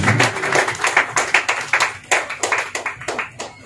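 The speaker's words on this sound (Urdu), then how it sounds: "آئیے ذرا روح القدس کو ہم زوردار تالیوں کے ساتھ ویلکم کریں گے۔" A church congregation at an Urdu worship service claps loudly in a quick, steady rhythm, sharp claps repeating close together for several seconds with no talk.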